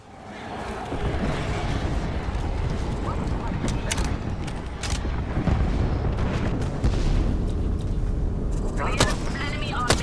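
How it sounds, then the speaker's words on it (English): Gibraltar's airstrike in Apex Legends hammers the ground with a long run of heavy, overlapping booms and rumbling impacts. The explosions build and stay loud for about ten seconds, with sharper cracks near the end and voices partly audible. "Signaling an airstrike"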